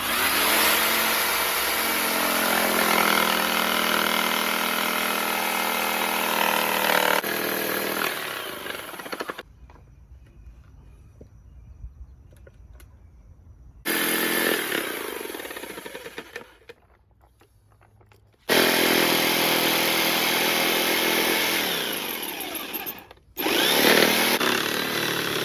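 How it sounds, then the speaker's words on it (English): A jigsaw cutting through the back of a guitar body, loud buzzing, rattling bursts of sawing broken by several pauses of near quiet, close to the listener. "so I got the jigsaw to go all the way through"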